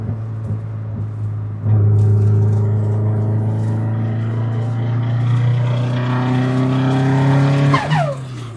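A turbocharged Subaru-engined Volkswagen Beetle revs up loudly and close, its engine note climbing and holding for several seconds with a rising turbo whine before dropping off.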